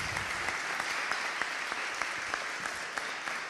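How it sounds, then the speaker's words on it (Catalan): Steady applause from a crowd at a football supporters' club 70th anniversary ceremony, dense clapping with a few sharper claps standing out, continuing at an even level throughout. "Un fort aplaudiment, moltíssimes gràcies."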